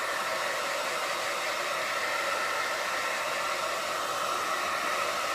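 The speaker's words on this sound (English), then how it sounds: "If we were in the dining hall, I probably wouldn't be using the hair dryer." Hair dryer blowing steadily on a clay ceramics piece to firm it to leather hard, outdoors; a constant loud, close whooshing hum with no break or talk.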